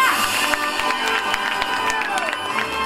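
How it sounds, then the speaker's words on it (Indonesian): Crowd applause and cheering at an anniversary celebration event, a continuous wash of clapping with scattered shouts and voices mixed in, fairly loud and busy throughout. "Mana tepuk tangannya?"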